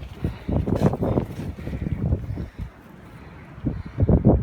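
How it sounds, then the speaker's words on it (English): Gusty wind buffeting the microphone in open woodland while camping, low rumbling blasts that rise and fall in uneven surges, briefly easing before swelling again, close and fairly loud with no talk. "I'll get you out of this wind"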